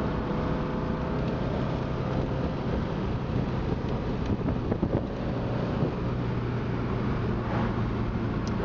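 A 1975 Porsche 914 cruises in third gear, its engine a dense, steady low rumble mixed with constant wind and road noise from inside the car, unbroken and loud for the whole stretch.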